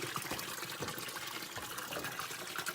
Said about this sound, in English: So right now we are overriding the float, running the pump only